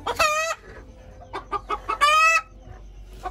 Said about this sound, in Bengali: মুরগিগুলো অনেকগুলো ডিম দিচ্ছে।